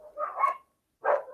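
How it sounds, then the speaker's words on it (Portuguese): Two dogs at home bark at something passing in the street, two separate barking bursts with a short pause between, moderately loud. "E agora vocês vão ver meus cachorros porque tem alguma coisa passando na rua."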